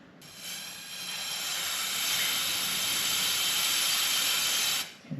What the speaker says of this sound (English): So I've got a can of computer spray duster.